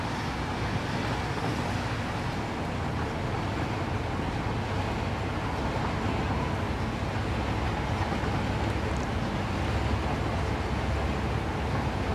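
A long train in the video game Satisfactory, pulled by two locomotives at the front and two at the back to climb steep hills, runs with a steady, dense rumble that holds at an even level for the whole stretch, with no voices.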